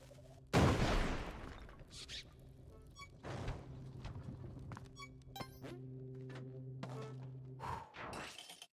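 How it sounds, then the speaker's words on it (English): A bomb going off in a card-based video game, one heavy booming blast near the start followed by lingering rumble, scattered clattering effects and a steady game-music drone. "I'm just gonna bomb."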